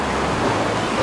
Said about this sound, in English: So we wait for the surf.